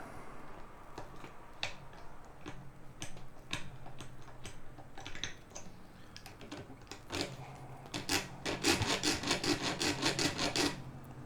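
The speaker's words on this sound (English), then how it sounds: "And we will now gently file the complete port." A small miniature file rasps against a guitar port in short, close strokes, at first sparse and irregular, then speeding up into a quick, louder run of rhythmic scraping near the end.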